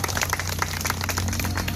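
A crowd of people clapping to welcome protest marchers at a demonstration, dense fast applause continuing steadily without a break.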